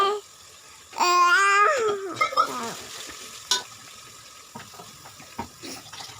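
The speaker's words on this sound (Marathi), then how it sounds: "इथे चांगली फोडणी करून घ्यायची याची" Spices hit hot oil with a sudden loud hiss and crackle that settles into softer sputtering, with a few clinks and taps of a utensil.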